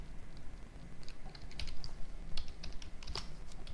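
Keys tapped on a computer keyboard while a file name is entered during programming work, soft scattered clicks in short irregular bursts under a steady background hiss.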